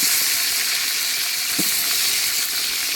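Onions frying in a pan with spices already toasted in the oil, making a steady bright hiss and sizzle that stays even and fairly loud for the whole stretch.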